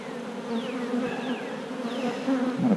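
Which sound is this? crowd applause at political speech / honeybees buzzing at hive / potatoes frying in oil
honeybees buzzing at hive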